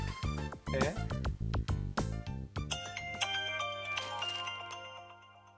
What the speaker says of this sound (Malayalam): ഫോൺ അടിക്കണ നിന്റെ.